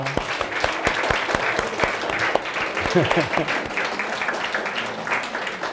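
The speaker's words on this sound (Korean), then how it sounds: "우리 박수 한번 치겠습니다." Church congregation applauding during a Sunday service, steady dense clapping throughout with some voices mixed in, moderately loud and spread across the room.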